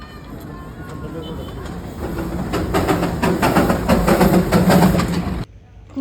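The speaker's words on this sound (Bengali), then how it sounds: "দেন আবারও চলে আসলো ট্রেনটা ঘুরে এখানে" A train in Darjeeling rumbles past nearby with rhythmic clattering that builds in intensity, people talking faintly underneath, before the noise cuts off abruptly near the end.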